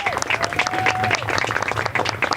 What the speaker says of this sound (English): let's have a round of applause for the players and their families